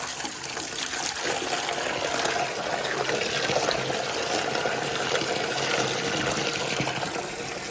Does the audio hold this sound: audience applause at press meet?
no